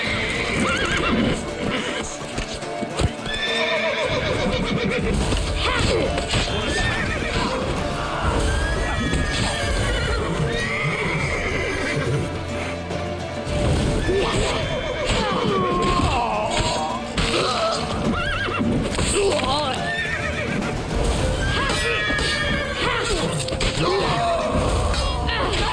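In The Witcher 3: Wild Hunt, horses gallop with rapid clip-clop hoofbeats and let out repeated whinnies, all loud and close amid a chaotic chase with thuds, crashes and game music throughout.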